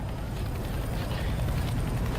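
Helicopter in the Left 4 Dead 2 zombie game, a steady loud rotor rumble with low-frequency chopping that runs without a break through the whole stretch.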